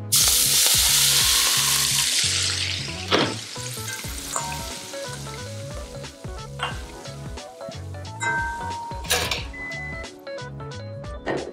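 Hot olive oil, heated until just smoking, poured all at once over tomatoes, erupting into a loud, crackling sizzle that gradually settles into a steady frying hiss with scattered clinks of utensils.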